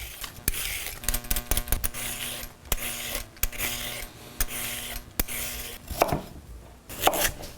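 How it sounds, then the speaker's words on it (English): A knife peels and cuts raw carrots on a board in a home kitchen, giving close, rhythmic scraping strokes and sharp chops, with a faint steady hum beneath. "Next up, we're gonna peel and cut down these carrots."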